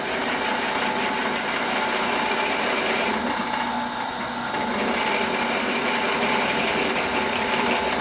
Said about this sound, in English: make sure you clear out your hole that you're drilling by raising your drill bit every now and then, just to clear out the chips